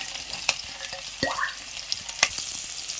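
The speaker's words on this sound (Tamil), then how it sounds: "இது வந்து கொஞ்சம் நேரம் நல்லா வந்து ஃப்ரை ஆகட்டும்" Onions, cinnamon sticks, green chillies and curry leaves frying in a pan for a mutton blood fry, with a steady soft sizzle and a few spoon scrapes and stirring clinks against the pan.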